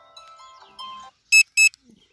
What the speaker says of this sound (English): turn this alarm off